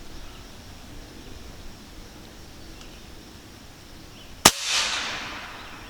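A single sharp, loud report from an FX Dynamic .35 caliber air rifle firing FX Hybrid pellets, followed by a brief hissing decay, breaking an otherwise quiet, steady outdoor background.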